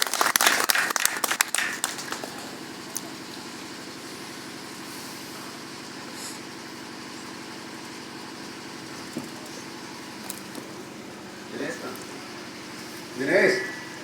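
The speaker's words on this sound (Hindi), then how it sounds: "एक बार जोरदार तालियां आपके सम्मान में बजाई जाए दोस्तों।" A short burst of audience clapping for a poet at a Hindi heroic-verse (veer ras) poetry recital, loud for about two seconds, then fading into a steady hum of background room noise with a few faint knocks.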